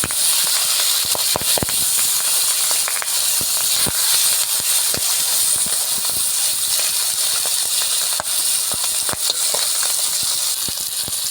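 Catfish (magur) pieces coated in salt and turmeric fry in hot oil, giving a steady, loud sizzling hiss with frequent sharp crackles and pops throughout, no voices.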